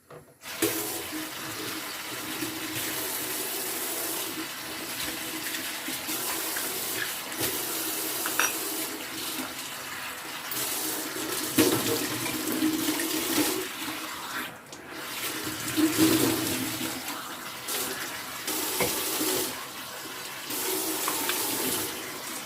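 Water runs steadily from a kitchen faucet for a long stretch, a constant close rush with small shifts in flow and no speech.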